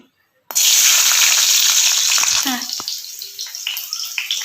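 Garlic cloves dropped into hot oil in a kadhai burst into a loud, close sizzle that starts abruptly and holds steady, then eases slightly with crackles and faint stirring.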